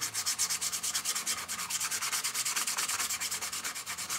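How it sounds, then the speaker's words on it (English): Sandpaper of 120 and 220 grit rubs back and forth across a metal part of a Benjamin Trail NP2 air rifle, a close, rhythmic scratchy stroke repeating steadily about seven times a second. "Then I have a 120 sandpaper across the top. And I'll come back in with 220."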